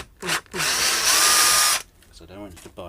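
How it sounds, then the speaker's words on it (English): A power drill bores into a guitar body in a workshop, one loud sustained whirring run of about a second and a half, with short bursts of speech before and after. "I'm actually pulling the drill bit back as opposed to letting the weight of the drill"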